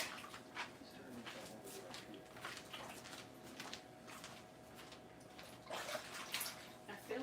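Running water pours and splashes while collard greens are washed, a steady rushing flow with brighter surges and clatters, close and moderately quiet.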